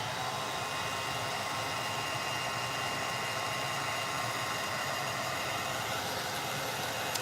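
A blower, likely a hair dryer or heat gun, dries a chunky molded wood snow globe craft, a loud continuous airy roar with a steady whine running unbroken throughout.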